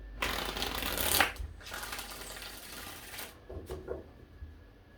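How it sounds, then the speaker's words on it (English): A deck of cards riffles and shuffles close by in several quick rustling passes, with brief gaps between them. "let's give this 5 shuffles"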